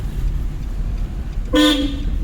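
A single short car horn toot sounds clearly over low engine rumble, loud and close, lasting a fraction of a second, inside a driving-school car during a lesson.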